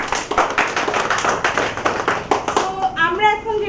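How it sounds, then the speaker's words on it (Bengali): An event audience claps together in a burst of dense, rhythmic applause close by, with a voice speaking over the last moment as it fades. "হাততালি প্লিজ।"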